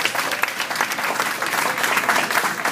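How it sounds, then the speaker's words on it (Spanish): Steady applause for a young girl celebrating her baptism and seventh birthday at a family party, a dense wash of many hands clapping close and continuous for a few seconds. "un aplauso para ella, que se escuche"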